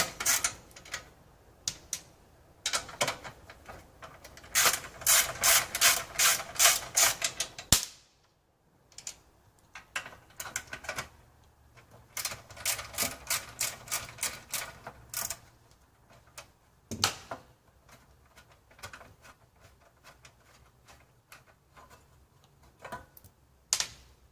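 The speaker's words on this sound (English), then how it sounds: "take your 10mm socket and remove the 3 bolts that hold the recoil on" A 10mm socket ratchets out the three bolts holding the recoil starter cover on an Austates/Ausbox engine: close, dry bursts of rapid clicking come in several separate runs with brief pauses between them, and no one speaks.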